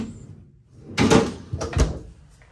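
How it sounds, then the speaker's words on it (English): A freezer drawer at the bottom of a large stainless steel refrigerator in a 2022 Montana fifth-wheel RV slides with a couple of close, dull thumps and rattles a moment apart. "Freezer drawer down below."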